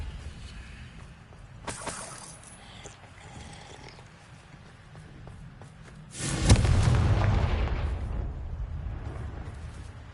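A Confringo explosion spell from a video game goes off as a sudden loud blast that rumbles and decays over several seconds, preceded by faint clicks and soft background ambience.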